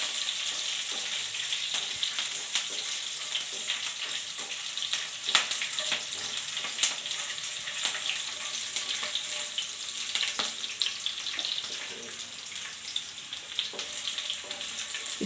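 Finely chopped curry leaves frying in a pan, with a constant close sizzle and small clicks and scrapes from stirring. No voices.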